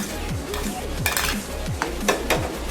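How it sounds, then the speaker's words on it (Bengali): Spoon stirring a thickening milk mixture for kulfi malai in a pot, with repeated scraping strokes and light metallic clinks over a faint bubbling sizzle, close and steady, with no talk. "দুধটা দেওয়ার পর দু চার মিনিট এবার নাড়াচাড়া করে খুব ভালো মতো মিক্স করে নিচ্ছি"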